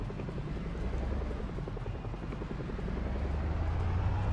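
A video game helicopter in Project Zomboid hovers with a rapid, steady rotor thump and a deep engine rumble, loud and sustained without pause.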